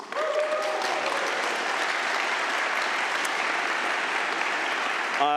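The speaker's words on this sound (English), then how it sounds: "A huge round of applause to Johannes, please." A large conference crowd at a lightning talks session breaks into a round of applause, a thick, even roar of clapping that holds steady and loud for about five seconds.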